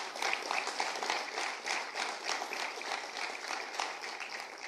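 A church congregation applauds for Jesus, a dense, even stretch of many hands clapping at moderate distance, sustained throughout without talking.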